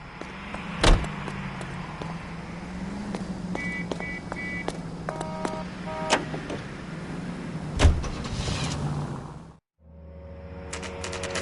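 A car driving in L.A. Noire, a steady engine hum with occasional clicks and thumps, and a couple of sharper knocks before it cuts to a quieter different scene near the end.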